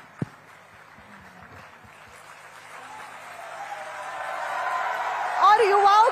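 A conference audience in Guwahati applauds Assam chief minister Himanta Biswa Sarma. The clapping starts faint and builds steadily into loud, sustained applause from a large crowd, with a voice heard near the end.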